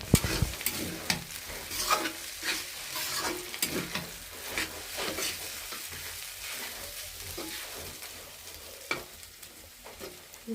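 Noodles are stir-fried in a pan, a steady sizzle broken by repeated scraping and tossing strokes of a spatula, close and fairly loud, with no voices.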